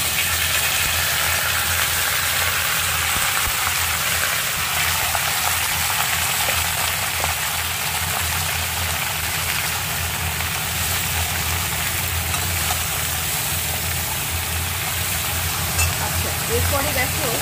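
Pumpkin and eggplant pieces fry in a pan with a loud, dense, continuous sizzle that holds steady and close throughout, with a low hum underneath.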